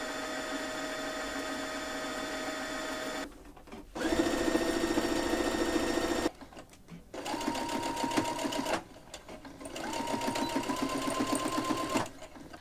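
A domestic sewing machine stitches curtain fabric into a crossbody bag in several sustained runs of rapid, whirring needle action, stopping and restarting between bursts, loud and close with no talking.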